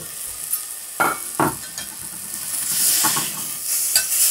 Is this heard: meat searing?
yes